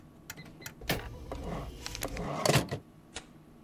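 Cash register in the video game While We Wait Here, with a series of clicks, clunks and a rattling drawer, several sharp mechanical knocks spaced irregularly and heard close and clear.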